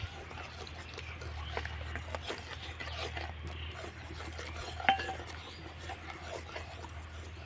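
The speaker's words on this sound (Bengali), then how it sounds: "এবার আমি সুজিগুলোকে অল্প অল্প করে দেব আর অনাবর্ত নাড়তে থাকবো" A spoon stirs semolina in a pan on a medium flame, making soft scraping and rubbing sounds against the metal, with faint clinks and a low steady background hum.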